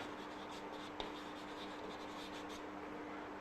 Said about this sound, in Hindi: मैं इधर लिखता हूं